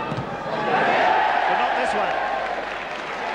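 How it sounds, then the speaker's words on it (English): Stadium crowd at a 1986 St Helens versus Australia rugby league match rises into a broad, sustained roar, with a commentator talking over it. "the crowd waited for the roar, but it's gone up"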